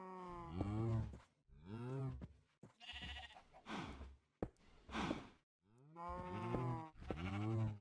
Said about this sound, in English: By the sounds of it, the cows don't like the idea so much.